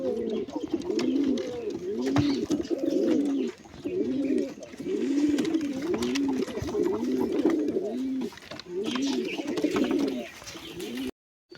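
Wild pigeons coo repeatedly beside a nest with grown chicks, a close, loud run of low rolling coos in steady rhythm with brief pauses, while a voice speaks intermittently over them.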